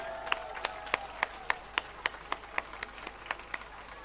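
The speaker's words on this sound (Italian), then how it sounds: "Facciamoci un applauso tutti insieme." Rhythmic hand clapping from a crowd in an open town square at a music festival concert, steady evenly spaced claps about three per second, fairly distant and soft, with faint background murmur.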